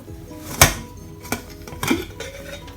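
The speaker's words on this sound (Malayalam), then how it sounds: "ഇനി നമുക്കിതിൻ്റെ വെയിറ്റ് ഊരിയ ശേഷം കുക്കറൊന്ന് തുറന്ന് നോക്കാം" A pressure cooker that has cooled after cooking Kerala beef peralan gets its weight pulled off and its lid opened, giving three separate metallic clanks and scrapes with quiet pauses between them.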